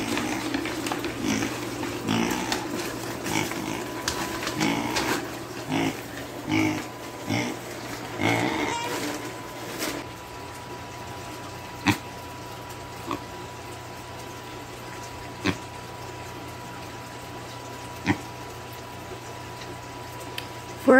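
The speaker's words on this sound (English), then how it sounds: "For a pig, she's actually very polite about eating." A pet pig eats pellets, making steady wet chewing and snuffling sounds, dense at first and then thinning out to scattered clicks and knocks.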